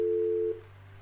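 Telephone busy signal from a phone in a hotel mystery video game, a steady two-tone beeping tone heard alone and loud for half a second before dropping to a quieter continuing hum.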